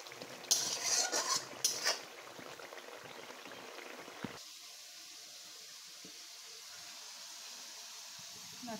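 Spices sautéed with sweet pumpkin, fish and drumstick stems in a curry pan: sharp metallic clinks and scraping of a stirring utensil for the first couple of seconds, then a faint, steady sizzle, with no talking.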